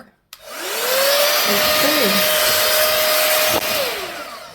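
Dyson hair styler switched on, starting with a click and spinning up to a steady, loud, high whooshing airflow with a constant motor whine, briefly interrupted by a knock before winding down.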